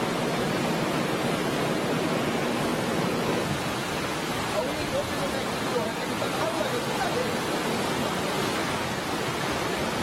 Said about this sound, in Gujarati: મોરબી જિલ્લામાં મચ્છુ ડેમ ઓવરફ્લો થયો છે